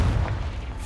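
A short, booming blast from the Confringo spell in Hogwarts Legacy, a single dull low explosion that rolls off within a second.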